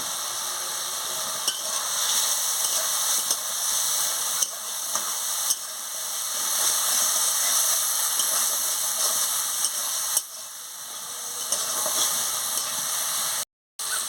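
Spiced fried potatoes being stirred and sautéed in a pan for an eggplant curry, a steady dense sizzle and hiss with repeated scraping stir sounds, close and continuous with no talking.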